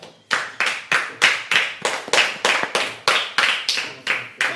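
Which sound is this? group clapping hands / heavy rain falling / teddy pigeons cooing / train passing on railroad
group clapping hands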